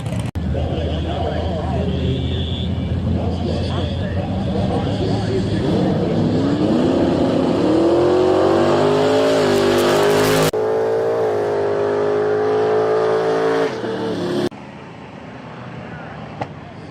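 Two drag racing cars, a Duster numbered 634 and a Mustang numbered 664, launch at Toronto Motorsports Park. Engine roar climbs steadily in pitch, then cuts off abruptly, with a voice talking over it throughout.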